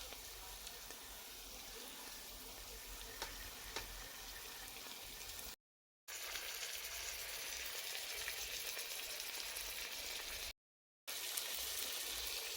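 Chicken browns in a pan for couscous sauce, a faint, steady frying crackle with soft sizzling and a few tiny pops, running evenly across two short gaps of silence.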